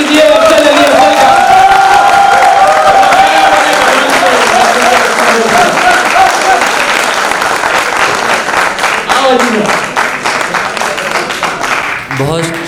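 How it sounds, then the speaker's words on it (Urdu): Loud crowd applause with cheers and whoops welcoming a poet at a poetry gathering in Jaipur, many hands clapping under an amplified voice that carries over the start before the clapping thins toward the end. "زوردار تالیوں سے سواگت کیجیے افضل علی افضل کا۔"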